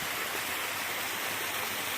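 Small, low-flow waterfall in Lory State Park, Colorado, producing a steady, even rush of falling water, close and constant with no voices.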